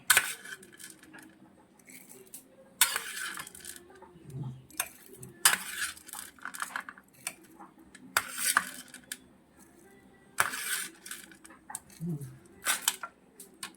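Roasted rice mix tipped from a spoon into black coffee in a home kitchen: a series of light metallic spoon clinks and taps against a cup, spaced irregularly, close and fairly quiet with no talking.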